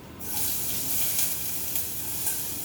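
Chopped onion drops into a hot pan for a tagine and immediately breaks into a steady, close, hissing sizzle that holds throughout, with faint crackles and no voices.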